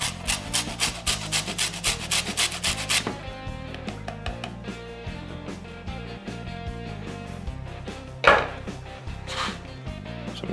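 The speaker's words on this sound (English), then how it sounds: "Do some lemon zest." A lemon rubbed against a zester or grater for a Dutch oven turkey, a steady rhythmic scraping of rapid strokes that continues for about ten seconds, fairly close and unaccompanied by talk.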